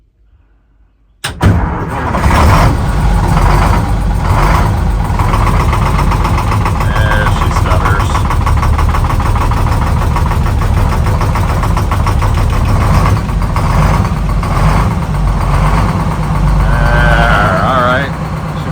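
Old show truck engine with fresh oil cranking and catching after a silent start, then settling into a loud, steady, slightly knocking idle, with someone talking over it.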